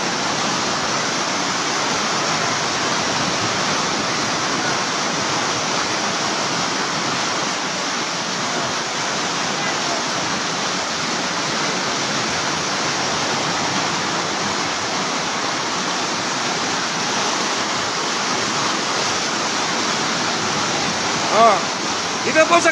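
Rushing floodwater in Bonbon, Libon, Albay roars as a dense, constant torrent, loud and unbroken throughout, with a couple of brief knocks near the end.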